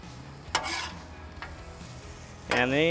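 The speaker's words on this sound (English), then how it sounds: "Go ahead and get our shrimp, throw our shrimp on." Shrimp tossed into a hot pan with minced garlic, a sharp sizzle bursting up, then a steady frying hiss with a couple of stirring scrapes, close and fairly loud; a brief voice sounds near the end.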